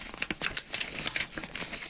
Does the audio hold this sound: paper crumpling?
yes